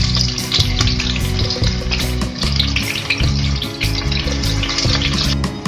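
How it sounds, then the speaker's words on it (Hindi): Onions sliced for garnish frying in hot oil in a pan, a steady loud sizzle and crackle with bubbling throughout, close and continuous with no talking. "तेल गरम हो गया है, अभी हमें प्याज डालनी है"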